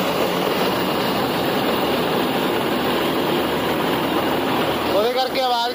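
A John Deere tractor engine runs steadily throughout, a loud continuous drone hauling a 16-foot trolley during a maize harvest, with a brief voice near the end.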